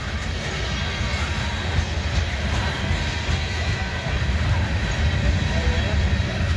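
A coal train rumbles past in a continuous low, heavy roar, with steady rolling noise lasting throughout.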